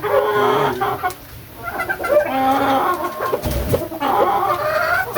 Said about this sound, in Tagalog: Tapos yung tandang.